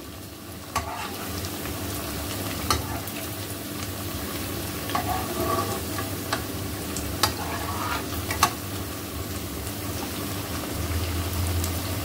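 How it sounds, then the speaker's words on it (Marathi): Kothimbir vadi, coriander fritters made without besan, shallow-fry in a little oil over a low flame, giving a steady close sizzle with scattered pops and crackles throughout. "दोन्ही बाजूने खरपूस तळून घेऊया आपण ही वडी."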